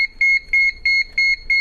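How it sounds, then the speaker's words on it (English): An NX Series alarm control panel keypad beeps at power-up in a steady repeating pattern of about ten short, loud, high-pitched electronic tones evenly spaced with brief gaps, heard on its own. "when you first power this panel up, this is normal for it to be beeping"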